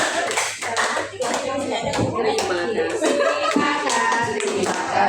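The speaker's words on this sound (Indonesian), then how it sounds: "Aplaus Bapak Ibu semua." Audience applause at a BCKS training event, a burst of hand clapping that carries on steadily for several seconds, close and fairly loud, with a voice speaking over it.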